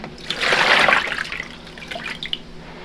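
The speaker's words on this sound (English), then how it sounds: "I'm going to pour this water into my tub" Water pours steadily into a tub to make an iron bath for dyeing a skein of fiber. A close, full rush builds in the first second, then eases to a lighter trickle with a few splashy drips, and no voices.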